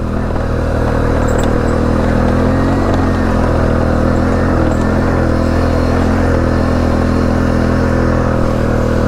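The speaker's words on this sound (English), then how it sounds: "Letting the mud tires slide around a bit, that's for sure." Off-road vehicle on mud tires sliding along a rough mountain trail on Buffalo Mountain's Devil Anse trail, engine droning loud and constant with rumbling chassis clatter and wind, heard close with no let-up.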